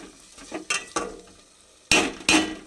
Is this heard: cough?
no